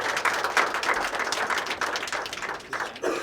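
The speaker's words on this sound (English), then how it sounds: "can we have a small round of applause for them?" Applause from the audience at a national seminar rolls on as a steady patter of many hands, moderately loud, with a few louder individual claps standing out near the end.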